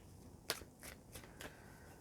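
Tarot cards being shuffled in short crisp bursts, a sharp riffle followed by several softer shuffles, faint and close, with no one speaking.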